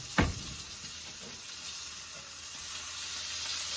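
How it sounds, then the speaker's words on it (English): Sausage sizzling in a frying pan while biscuits and gravy are made at home: a steady, soft crackling hiss that holds throughout, with one brief clatter near the start and no talking. "I hear my sausage over there"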